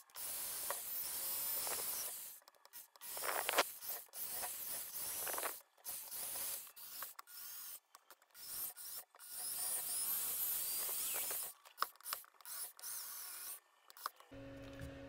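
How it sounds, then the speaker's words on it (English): A drill bores out and widens the pickup cavity of a custom gold-top Strat-style guitar body, a long run of close grinding, rasping bursts broken by short pauses, with no talk. "I'll actually have to widen the pickup cavity just a little bit. So I'm gonna get the drill out."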